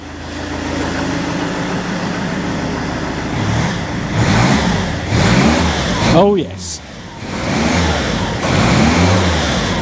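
A Rover 75 fitted with an EGR delete has its engine revved in repeated bursts, rising and falling over a steady idle, close by, with people talking over it.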